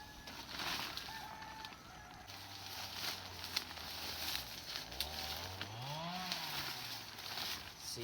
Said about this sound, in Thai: เสียงคนเลื่อยไม้อยู่บ้าน